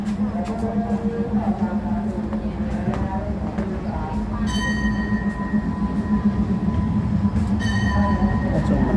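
A train rumbles steadily through a railway station in Poipet, with metallic wheel squeals and faint high tones rising over the continuous low roar.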